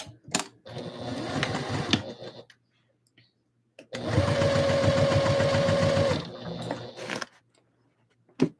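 A sewing machine stitches a second layer patch on, running in two loud steady bursts of rapid whirring and clicking separated by quiet pauses, with brief handling clicks between runs.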